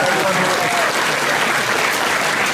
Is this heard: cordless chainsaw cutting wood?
no